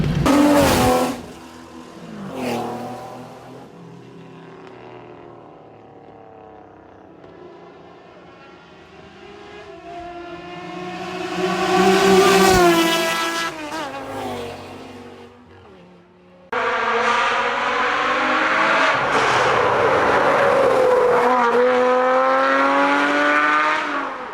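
A Porsche sports car engine revs and roars through rising and falling gear pulls on a mountain road, loud and close, with a sustained high-rpm howl in the final stretch.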